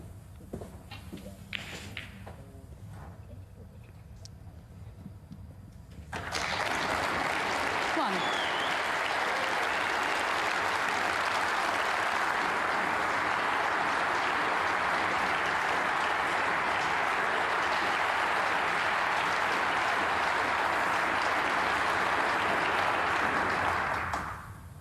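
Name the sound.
prolonged applause at end of snooker match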